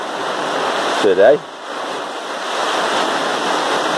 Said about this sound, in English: you can also hear the rain outside